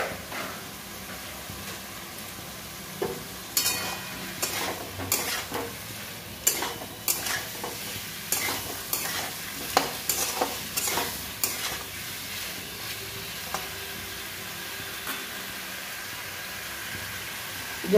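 Vegetables, including pumpkin stems and potato, frying in a pan after being added, with a steady sizzle under repeated scraping strokes of a stirring spoon, loud and close throughout.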